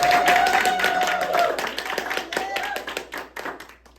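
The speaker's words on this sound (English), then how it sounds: "Let's just give a applause." An audience claps at a fundraising campaign announcement, a quick flurry of close, crisp hand claps with voices and cheering mixed through, tapering off over a few seconds.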